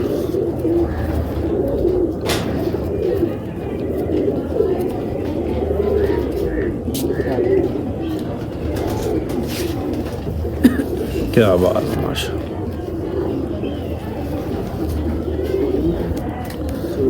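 Domestic pigeons coo softly and continuously in a home loft, their low burbling blending into the background while someone speaks briefly over them.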